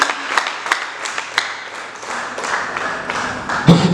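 Church congregation applauding together, a steady wash of many hands clapping with a few sharper claps standing out, fairly close and continuous throughout.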